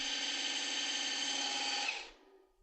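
Cordless portable hand mixer with two whisks running on a low speed, a steady close whirring motor hum that holds evenly and then winds down as it is switched off near the end.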